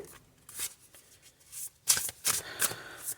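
Tarot cards shuffled and drawn during a reading, with soft riffling and flicking bursts that grow louder toward the end, short sharp card snaps repeating, and no talking.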